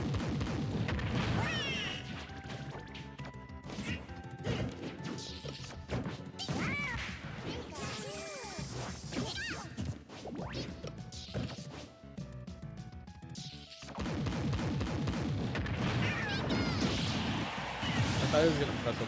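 Down smash attacks land in Super Smash Bros, heard as repeated crashing whacks and booms over dense, continuous game sound and music throughout.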